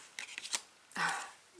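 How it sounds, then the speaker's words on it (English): Tarot cards shuffled by hand, quiet soft riffling and flicking in a few short bursts, with one longer papery riffle near the middle, close and faint. "I'm going to shuffle the cards."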